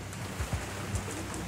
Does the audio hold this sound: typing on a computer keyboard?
no